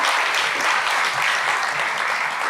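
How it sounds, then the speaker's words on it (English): Audience clapping at a science talk held in a bar venue, a steady dense wash of applause filling the room without a break. "Clap, you can clap for the varsity."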